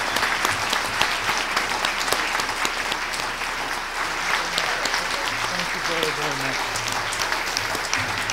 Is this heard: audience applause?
yes